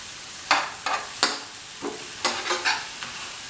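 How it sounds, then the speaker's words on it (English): Tomatoes being mashed into frying masala in a pan for a yam and ash gourd stew, heard as a series of distinct scraping, squishing strokes about half a second apart over a faint background sizzle, with no voices. "Smash the tomatoes so that they are easily incorporated in the"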